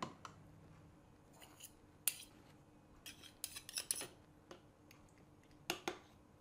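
A metal spoon scrapes sour cream from a dishing spoon into a container, giving sharp clinks and scrapes in scattered bursts, close and clear against a quiet room.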